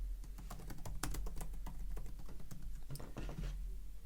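Fingers type a name into a document on a computer keyboard, a quiet run of quick irregular clicks and taps over a low steady hum, close to the microphone with no speech.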